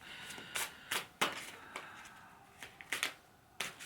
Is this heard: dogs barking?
no